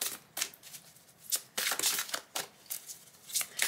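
Tarot cards shuffled by hand for a card reading, a series of quick riffling bursts and soft slaps repeating irregularly, close and fairly loud with no talk.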